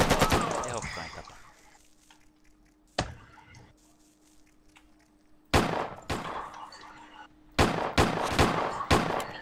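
Loud, sharp gunshots ring out in a multiplayer shooting video game, arriving in isolated cracks and short rapid bursts separated by quieter stretches, with voices in the background.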